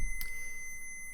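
A multimeter set to continuity mode beeps while testing an XT60 connector during a Strix AWK210 drone build, giving one steady high-pitched electronic tone that holds for the whole moment, with a faint click near the start.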